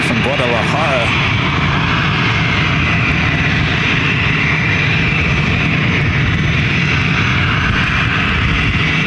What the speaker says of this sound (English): Got that Volaris flight coming in from Guadalajara